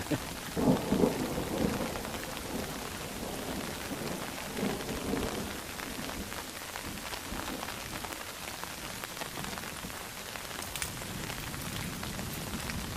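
Thunderstorm in southern Missouri woods: steady rain patters on leaves and ground throughout, with low rumbles of distant thunder rolling in near the start and again around the middle, no voices.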